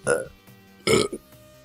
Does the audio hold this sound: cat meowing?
no